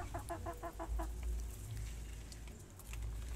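Chickens aged two and four months cluck on a small poultry farm, a quick rhythmic series of close clucks at first, then softer scattered calls over a constant low hum.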